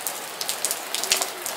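Heavy rain pours steadily onto a surface outdoors, a dense continuous hiss broken by scattered sharper drop impacts, close and fairly loud with no voices.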